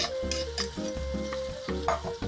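Canned no-bean chili spooned and scraped into a baking dish, giving soft wet plops and stirring sounds over a steady background hum with light clinks.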